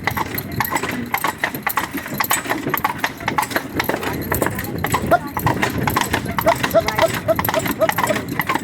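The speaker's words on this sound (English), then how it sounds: "Nice little gallop." Horse hooves clip-clopping steadily as a horse pulls a jaunting car uphill in Killarney, Ireland, the quick rhythmic beats close and loud over road and cart rumble, with people talking throughout.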